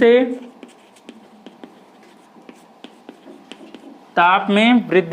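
Chalk or marker tapping and scratching on a classroom board during a chemistry lesson, a run of short, sharp, close ticks between spoken lines, with a voice talking at the start and end.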